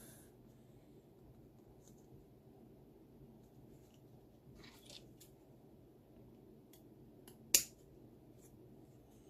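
Scissors trim excess paper from a scrapbook page during a paper craft session: a few faint rustling snips, then one sharp, close snip near the end, heard alone over a low, steady room hum with no talking.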